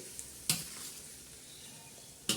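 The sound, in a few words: whole garlic sautéing in a tempering (tadka)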